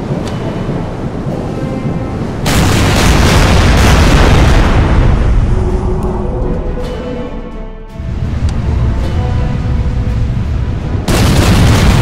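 Big guns fire in the WW2 strategy game Order of Battle: heavy, booming blasts with a rumbling tail. Loud bursts strike near the start, around the middle and again at the end, with no voices.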